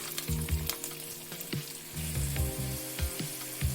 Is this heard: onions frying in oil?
yes